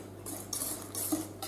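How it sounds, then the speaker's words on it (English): Cake batter is whisked in a bowl, giving quick, faint rhythmic swishes and light metallic taps, close and alone. "And we'll just carefully whisk that through."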